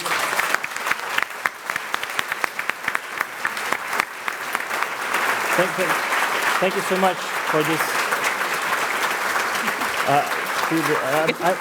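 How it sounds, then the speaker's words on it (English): An audience breaks into strong applause, a dense burst of clapping that carries on under voices as people talk over it and the clapping gradually softens. "we owe you all a big hand for that one"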